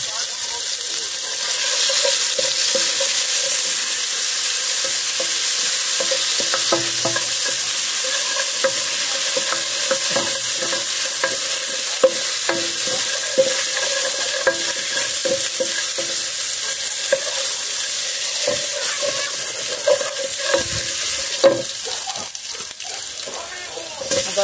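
Garlic sizzles steadily in a pan while being stirred for a fish stew, a constant close hiss of frying with scraping stir strokes throughout.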